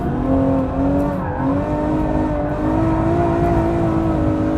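A Ferrari F12 engine pulls hard on track in fourth gear at full throttle, loud and continuous from inside the car, its pitch climbing and briefly dipping as revs rise without any voice.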